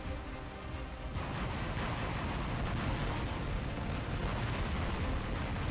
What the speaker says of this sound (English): Oh, he's firing at me with his 300.